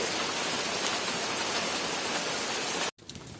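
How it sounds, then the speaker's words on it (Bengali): Heavy rain pours steadily around a house, a dense, loud hiss with no pauses, then cuts off abruptly near the end, leaving a quieter patter. "প্রচণ্ড পরিমাণে বৃষ্টি হচ্ছে"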